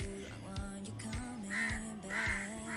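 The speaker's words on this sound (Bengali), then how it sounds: "এই দেখুন পাখিগুলো কি সুন্দর সকালে ডাকছে" Crows caw repeatedly in the morning at close to moderate distance, harsh calls coming in irregular bursts, some overlapping, over a faint outdoor background.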